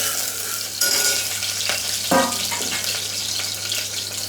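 Curry leaves and crushed garlic frying in hot oil for a Malvani bhaji aamti, a steady close sizzle with a couple of louder spits and crackles as ingredients hit the pan, no talking.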